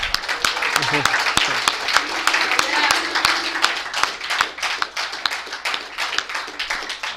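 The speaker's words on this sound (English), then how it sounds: "Let's give him one more round of applause" Applause from an audience honouring a speaker at a talk event, dense clapping sustained throughout at a steady level, with voices murmuring beneath it.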